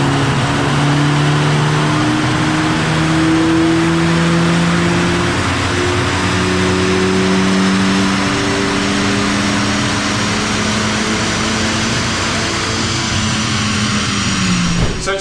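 A Mercedes A45 AMG runs on a dyno with a loud, sustained engine roar that climbs and falls through several revving pulls, close and steady throughout with no voices.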